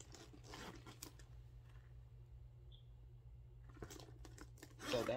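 A zipper is pulled closed on a Coach Swinger 20 bag, giving quiet raspy bursts near the start and a louder, longer zip at the end over faint room noise.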